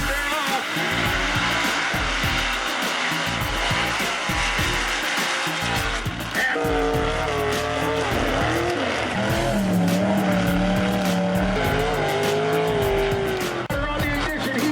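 Lifted mud trucks at a mud racing event launch and rev hard, with loud engine roar, shifting pitch and tire spin over a busy outdoor crowd background.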